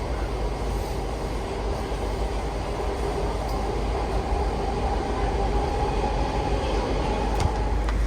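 Red Line metro train heading to Glenmont in Washington, D.C., a loud steady rumble and rattle of the car in motion with a faint squeal, heard from inside, no talk.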